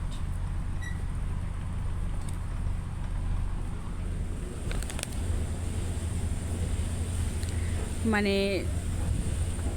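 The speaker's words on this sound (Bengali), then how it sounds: "পানির একটা স্রোতের শব্দ, আলতো বাতাস, জানলার পাশে বসে থাকার ফিলটাই অন্যরকম" A moving launch boat makes a steady low engine hum, with water rushing past and a light breeze against the window; a brief tonal chirp is heard near the end, and one short word is spoken.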